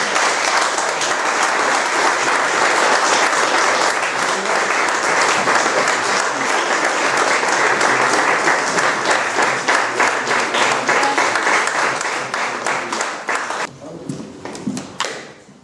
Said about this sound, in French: C'est fait, on peut applaudir.